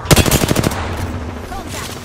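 Rapid automatic gunfire in the battle royale shooter Apex Legends, a close burst of quick shots for under a second that then trails off into a quieter, rumbling game background.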